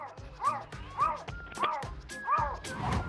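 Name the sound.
animal imitating a dog barking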